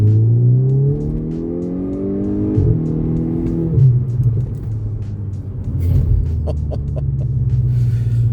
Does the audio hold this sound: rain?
no